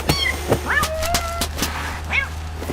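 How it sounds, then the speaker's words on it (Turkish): A cat meows several times in short, rising cries up close, with a steady low hum underneath and no speech. "Sabahtan beri miyav miyav miyav miyav."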